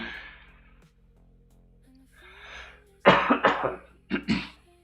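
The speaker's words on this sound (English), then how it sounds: "Hopefully I'm not coughing straight into the microphone for you guys." A person coughs several times in a quick burst, preceded by a softer throat clear and breathy sounds, close to the microphone.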